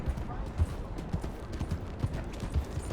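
Rhythmic hoof clip-clop of a galloping horse in Red Dead Redemption 2, steady and fairly close, with faint talk and ambient noise underneath.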